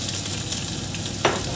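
Chopped onion frying in a pan: a brief, loud and continuous sizzle with a single sharper scrape or crackle near the end.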